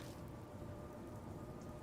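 Steady rain falling at night in the Death Mark video game, a constant soft hiss and patter that runs evenly throughout, faint and without voices.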